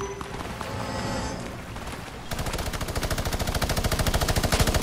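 The Brutus boss in Fortnite opens fire with a minigun: a sustained, rapid, evenly spaced stream of loud shots that starts partway through and keeps going over earlier mixed game noise.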